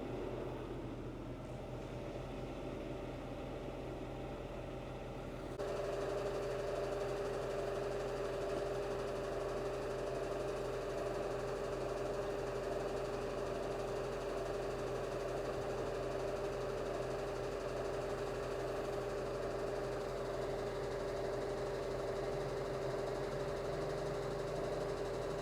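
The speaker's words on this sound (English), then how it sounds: "We appear to have a B-17 flying overhead." A B-17 bomber flies overhead as a steady, distant multi-engine drone that swells noticeably after the first few seconds and then holds a constant, sustained hum with no talk.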